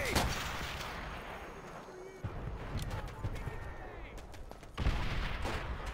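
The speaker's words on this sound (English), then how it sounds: "Enemy artillery!" Enemy artillery fire in Call of Duty: World at War, a dense, continuous barrage of booms and gunfire with sharp bursts near the end, under chatter.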